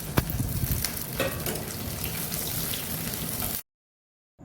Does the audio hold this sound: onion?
yes